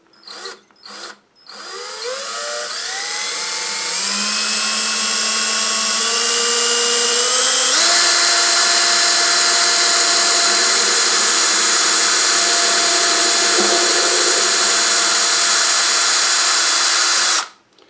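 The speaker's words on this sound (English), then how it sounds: "Alright, so we drilled all the way through." A power drill whirs up to a steady high-pitched whine and grinds on for a long stretch drilling through a ukulele body before cutting off abruptly. No one speaks.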